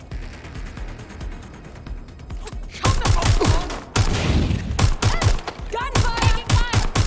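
Bursts of rapid gunfire in the video game Watch Dogs Legion crackle loudly, some shots in dense volleys and others spaced out, with a low rumble beneath and intermittent heavy reports.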